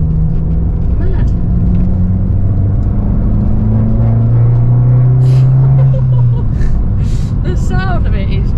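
A brand-new Abarth 595 Turismo engine heard from inside the cabin while driving, droning loudly and rising and falling in pitch as it pulls through the revs, with brief voices near the end.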